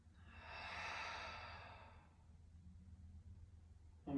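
A person breathing out slowly through the mouth during a yoga breathing exercise, one soft, airy exhale that swells and fades over about two seconds, quiet and close, followed by faint room noise.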